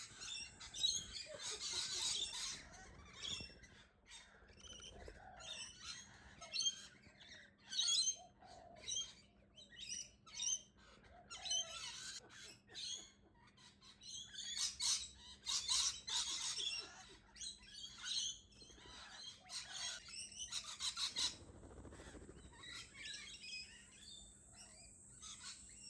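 Lorikeets squawk and chirp around the bird baths of an Australian garden, a busy run of shrill calls and chatter, some close and loud, others further off, carrying on steadily with no talking.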